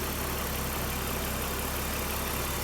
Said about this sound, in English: BMW's M54 B25 straight 6 motor.